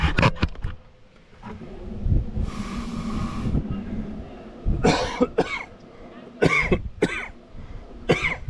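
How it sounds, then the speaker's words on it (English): Several harsh, close coughs in bursts from pollen, with throat clearing between them over a low rumbling background and a brief hiss. "It's me coughing from the pollen."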